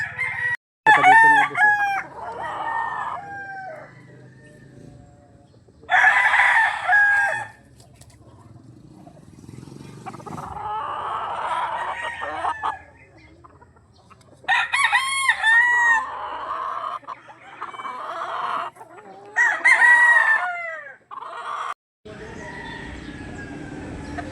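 Several roosters crow repeatedly in a backyard in Barangay Masaya, Rosario, Batangas, loud and close with repeated calls, alongside clucking hens and low background noise.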